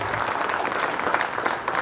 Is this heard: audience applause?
yes